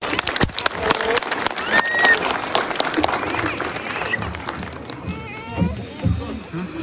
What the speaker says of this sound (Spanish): Fuertes los aplausos, Incahuasi, para el hermano presidente.